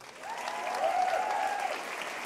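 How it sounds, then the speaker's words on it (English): An audience at a poetry slam final applauds, the clapping swelling over a couple of seconds and holding steady, with a faint tonal hum running beneath it. "can we have a massive round of applause for the wonderful Jackie?"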